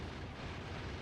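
Rockets blasting an alien nest in Factorio Space Age, a sustained rumbling roar of overlapping explosions, loud and steady with no clear gaps between impacts.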